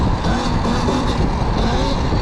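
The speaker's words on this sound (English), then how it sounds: "I could just hit the gas" An electric dirt bike accelerates hard into a wheelie. A loud, continuous motor whine rises and wavers over a rushing wind-like roar.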